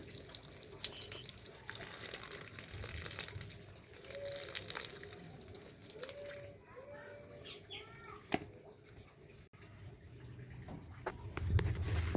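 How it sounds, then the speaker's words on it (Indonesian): Water poured steadily over a newly repotted adenium plant in its pot, a continuous soft splashing and gushing that trails off toward the end, with faint bird sounds nearby. "Kita siram secara menyeluruh aja ya, karena ini baru pertama kali tanaman ini dipindah ke pot yang barunya."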